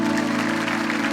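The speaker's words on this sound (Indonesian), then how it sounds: "Kasih tepuk tangan buat Tuhan" A church congregation claps during a night of worship in Malang, a dense wash of applause layered over sustained music.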